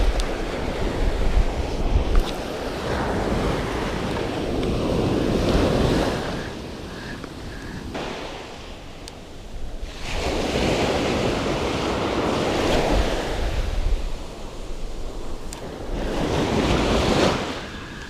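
Wind rushing over ocean surf near the Cape Verde coast, a steady roar with waves swelling and breaking in slow surges, heavy wind buffeting the microphone throughout, no voices.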